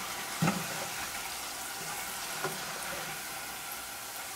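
Onions fry in a pan with a steady, crackling sizzle, and two brief soft clunks come as they are stirred.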